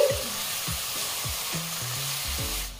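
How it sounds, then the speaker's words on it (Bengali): Grated tomato gets stirred into spice masala frying in a pan, a soft sizzle beneath quiet scraping strokes of a spoon that come in a loose, repeated rhythm. "এবার এই টমেটোটা মিশিয়ে নিচ্ছি।"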